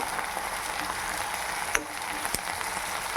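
Curry leaves and chopped tomato fry in a pan with a steady, dense sizzle and crackle, a couple of sharper pops standing out over the constant hiss.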